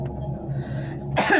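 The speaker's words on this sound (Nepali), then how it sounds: "खोकी लाग्नु" A single sharp cough bursts out at the end, preceded by a low hum of background noise.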